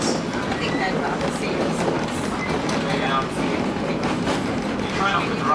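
Gulflander rail motor train running through the Australian savannah, a steady continuous rumble and rattle of the rail motor heard from aboard, constant loudness with voices talking over it.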